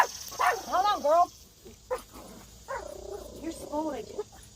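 A dog whimpering and yipping close by in a house, several short whiny cries and a small bark in uneven bursts, with faint background noise.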